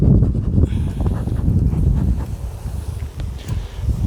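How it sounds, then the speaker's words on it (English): Gusty wind buffets the microphone outdoors during a beehive inspection, a steady low rumble that swells and dips over a few seconds with no talk. "It's a little bit breezy as well today"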